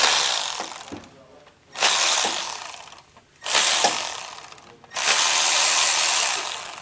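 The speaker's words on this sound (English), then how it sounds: "We're gonna undo these bolts here. There is 5 of them." A ratchet undoing the valve-body bolts on a Mercedes automatic transmission: loud, close bursts of rapid clicking in three runs separated by short pauses, with no talking.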